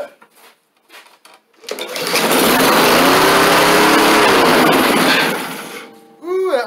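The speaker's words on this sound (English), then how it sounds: "Let me fire this thing up and show you what it is doing." Honda HRS216 push mower with a GCV160 engine overrevving: after a few starting pulls it roars up to a loud, sustained high-pitched scream for several seconds, then drops away.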